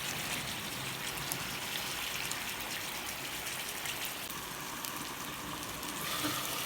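Beef curry cooked Sri Lankan style simmers in its own water in a pot, giving a faint, steady bubbling hiss with no break.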